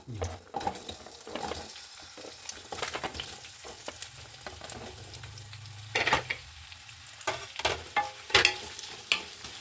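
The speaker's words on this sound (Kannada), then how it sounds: "ಫಸ್ಟ್ಗೆ ಈರುಳ್ಳಿ ಹಾಕ್ತೀನಿ." Sliced onion hisses and sizzles in about five spoons of hot oil over low heat, a soft steady crackle broken by a few louder scrapes and stirs of a spoon against the pan.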